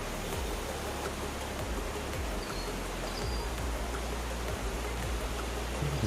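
The waterfall in Westquarter Glen, Falkirk, gives a steady, broad rushing roar of falling water at moderate distance, unbroken and with no voices.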